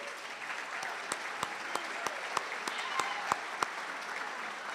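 Audience applause at a high school commencement for a group of graduates, a continuous wash of clapping from a large crowd with a few sharper individual claps standing out near the front.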